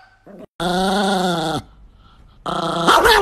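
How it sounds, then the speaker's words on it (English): A small Chihuahua growls in two drawn-out, whiny bursts, close and loud, separated by a short quiet pause. "This is my dog, and she loves me."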